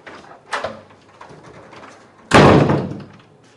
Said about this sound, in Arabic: جايين متأخر وبضرب في الباب كمان